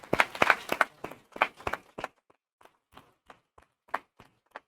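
Audience applause, a short burst of loud claps near the start that thins out into scattered, fading individual claps.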